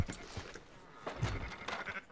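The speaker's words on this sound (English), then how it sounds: "Look at them sheep." Sheep bleating in Red Dead Redemption 2, several short nasal bleats from a small flock at moderate distance, fairly quiet, in a rural outdoor setting.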